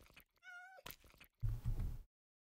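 A cat in a video game meows clearly and close up, a rising mew. Softer game noises follow, then a louder rumbling burst of sound that cuts off into silence.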